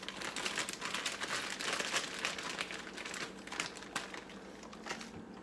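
A plastic bag of chopped spinach crinkles and rustles in a quiet, uneven run of close crackles as it is emptied into a pan in a home kitchen.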